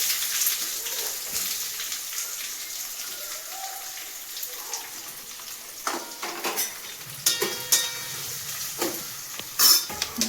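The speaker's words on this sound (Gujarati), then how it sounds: "તો આપણે પેલા નાખી દઈએ કાંદા." Onions frying in a pan with bay leaf, cinnamon pieces and whole spices, a steady soft sizzle with intermittent stirring clicks and scrapes, close and moderately loud, no talking.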